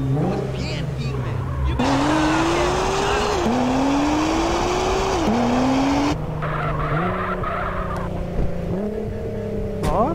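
Ferrari sports car in GTA, a loud engine climbing through revs in repeated rising sweeps, then downshifting in several stepped drops, with tire squeal and a constant dense roar throughout.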